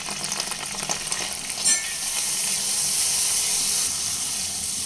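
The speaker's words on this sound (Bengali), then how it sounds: "মিডিয়াম ফ্লেমে নেড়ে চেড়ে মশলাটাকে কষিয়ে নিতে হবে" Ground turmeric, coriander and salt frying in hot oil with ginger for a vegetarian pumpkin-greens chorchori, a steady bright sizzle that swells louder about halfway through and holds, with faint stirring and no voices.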